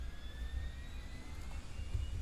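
Jet engines of an iniBuilds Airbus A340 in Microsoft Flight Simulator 2024 run steadily at Zurich, a faint, constant low rumble with a thin high whine gliding slightly above it, and no voices.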